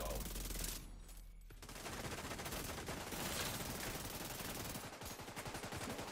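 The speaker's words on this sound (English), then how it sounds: "So they shoot you in the back" Bursts of rapid automatic gunfire crackle through a video game firefight, dense and loud, with a brief lull before the shooting resumes.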